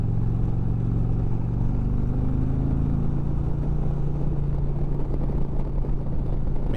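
A Chieftain 112 or Street Glide bagger motorcycle runs steadily on the road, its engine a loud, continuous low rumble with a faint pitch shift partway through, heard up close and alone.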